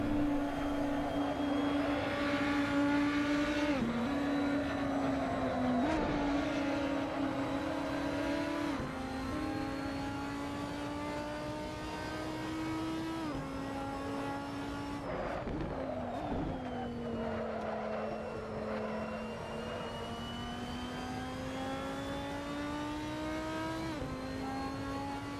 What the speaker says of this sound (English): We are now racing in the RUF RT12R.